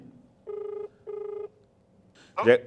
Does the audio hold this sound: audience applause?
no